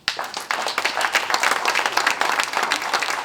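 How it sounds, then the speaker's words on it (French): A conference audience applauds an award-winning author. The clapping is brisk and dense, starting abruptly and holding at an even, lively level to the end. "Vous pouvez l'applaudir."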